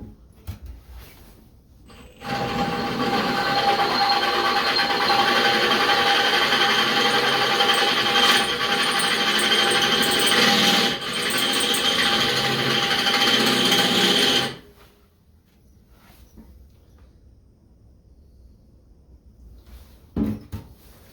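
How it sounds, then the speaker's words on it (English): A power drill bores holes in metal for Kubota L3901 tractor bucket hooks, a steady loud whirring grind lasting about twelve seconds with slight dips, then stopping abruptly into quiet handling noise. "So I got all 4 holes drilled out to the proper size."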